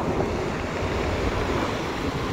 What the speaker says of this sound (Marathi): लाटा छान आहेत